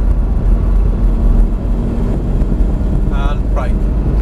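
A Lamborghini driven on a driving experience track at Prestwold gives a steady, close engine drone throughout, while an instructor talks over it.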